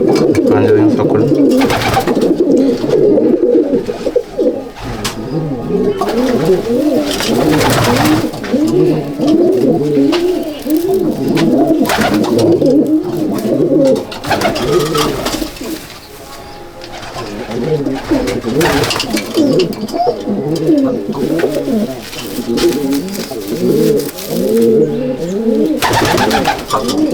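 Phulsira male racing pigeons in a loft coo continuously and close by, many throaty overlapping calls rolling over one another in a dense, steady chorus with brief dips.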